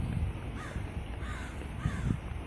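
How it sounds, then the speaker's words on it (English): Crows caw from a spooky Halloween haunted-house tree decoration, three hoarse calls spaced about a second apart over a noisy outdoor background, moderately near with no talk. "Then we have our big, tall, spooky trees with the crows in there."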